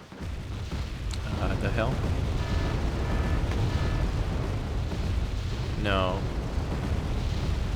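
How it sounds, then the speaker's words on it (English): Rocket artillery strikes rumble in Wargame: Red Dragon as a dense, sustained roar of blasts under the battle din, with a brief whistling sweep near the end and voices talking over it. "Here come the rockets again."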